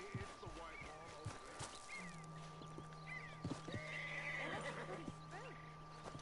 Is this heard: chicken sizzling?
no